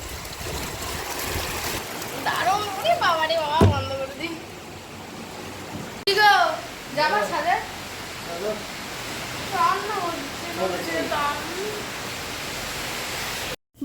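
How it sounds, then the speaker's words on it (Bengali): Heavy rain falls outside a window as a steady, even hiss running throughout, while a voice talks intermittently over it. "বিশাল বৃষ্টি হচ্ছে"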